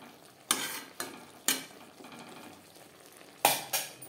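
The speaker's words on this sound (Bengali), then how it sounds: "এভাবে মাঝে মধ্যে 1-2 বার নাড়াচাড়া করে দেব আর ঢেকে দেব।" Flat beans with tomato stirred in a frying pan, several sharp spoon scrapes and knocks in an uneven rhythm over a low sizzle, close by.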